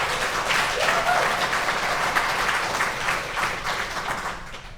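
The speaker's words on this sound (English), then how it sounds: "can we get a big round of applause for Jonathan and Enzo?" A large audience at an indoor pride speaking event breaks into sustained, dense applause that stays loud throughout and tapers slightly at the end.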